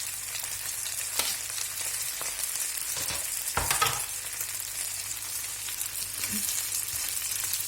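Chicken, onions and carrots frying in a pan, giving a steady close sizzle with a few clicks and scrapes of stirring, and no voices.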